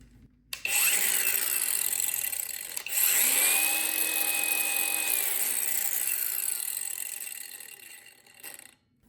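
A cordless flathead braking angle grinder for 4-1/2 to 5 inch discs runs on a Milwaukee 18V battery. It spins up loudly and close, holds a steady whine with a brief dip and a shift in pitch, then winds down.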